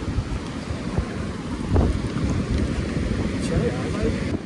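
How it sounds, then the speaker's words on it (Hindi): Sea waves wash onto a beach in a continuous rushing roar mixed with heavy wind buffeting the microphone, loud and close, with faint voices in the background. "देखो मस्त लहरें है एक नंबर की"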